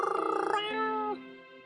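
A cat named Willow, in the mobile story game Choices, sits in a lap giving a short, close, fluttering purr that turns into a bright, drawn-out meow-like game sound effect.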